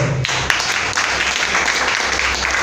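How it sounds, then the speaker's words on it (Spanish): Church congregation gives a round of applause during a worship service, a brief burst of steady, dense clapping at constant level with a few sharper claps standing out. "Un aplauso, por favor"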